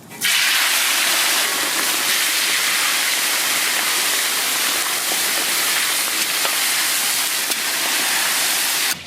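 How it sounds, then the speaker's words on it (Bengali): Chicken meat frying in a pan, a loud continuous hiss and crackle of sizzling fat, steady throughout at close range. "মাংসটাকে ভেজে নেব।"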